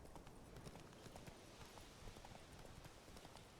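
Roach, the horse in The Witcher 3, trots along with steady, rhythmic hoof clip-clops, soft and faint, under a constant background wash.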